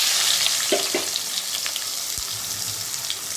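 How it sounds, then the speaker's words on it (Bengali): Lightly salted, pre-steamed potatoes sauté in oil in a wok with a steady, close, bright sizzle throughout and a few soft scraping and stirring knocks, and no voices. "এবারে আমি এই আলুগুলো এই তেলে একটু সতে করে নেব"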